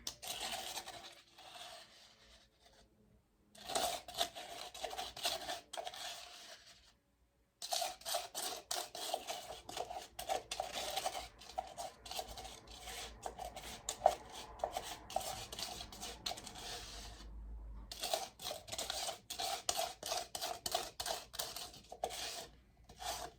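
Small batch of concrete mixed for candle and soap dish molds, a quiet continuous scraping and rasping with repeated strokes and a couple of brief pauses, close and faint.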